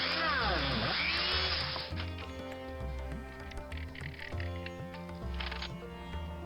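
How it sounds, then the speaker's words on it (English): A small power drill whines at a die-cast Corgi Mini Minor model body during restoration, a high buzzing burst that winds down, followed by lighter intermittent tool noises and faint taps. "We're drilling and tapping the body."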